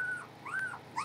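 A puppy whimpers in thin, rising and falling whines while its sharp nails are filed, the cries close and fairly loud through a short moment.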